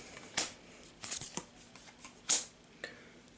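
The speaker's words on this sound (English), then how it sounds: "Let's draw some cards." Cards being drawn and handled in the Pathfinder card game, a few crisp snaps and slides at uneven intervals, close and fairly quiet, with no voices over them.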